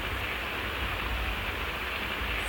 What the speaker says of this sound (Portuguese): Pelo barulho, deve tá chovendo.